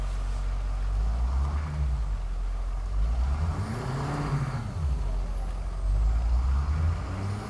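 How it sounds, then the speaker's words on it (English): A 2012 Ford F-350 King Run truck engine winds down after the throttle is released, its turbo whine sliding lower over a steady diesel rumble, close and continuous with no talk. "You can hear the turbo begin to go down a little bit when you let off the gas."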